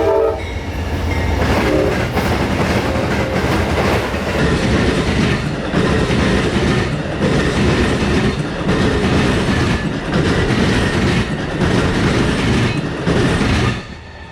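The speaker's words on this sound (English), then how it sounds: "Amtrak 92 is on a swift run back out of Tampa headed northbound." Amtrak 92, a northbound passenger train out of Tampa, speeds past close by with a loud, continuous roar and rhythmic wheel clatter, a brief horn sounding at the start before the rush holds steady and drops off at the end.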